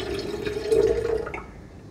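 Water being prepared, 400 ml poured into a container, a short burst of splashing and trickling liquid that rises briefly and then tails off, close by and alone.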